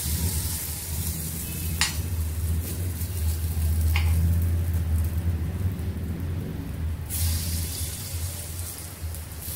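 Semolina appe batter sizzling in an appe pan, a steady dense hiss with a low hum beneath and a couple of brief clinks.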